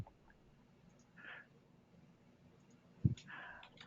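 Computer keyboard typing during a software webinar: a few scattered, soft key clicks spread across the moment, one sharper tap near the end, all faint against a quiet room.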